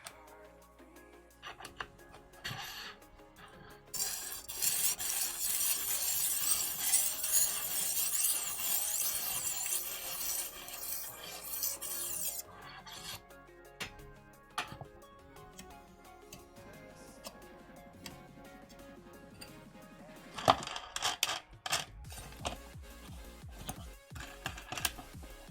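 Knife blade deburred with light strokes on a 2000-grit sharpening stone, making a soft, steady scraping hiss that runs for several seconds amid scattered faint ticks and clicks, close and quiet.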